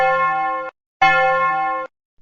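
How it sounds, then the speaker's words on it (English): A handbell is struck twice, each strike giving a bright, clear ringing tone with rich overtones that sustains evenly for under a second before being cut off, loud and close. "Let's take a bell and ring it."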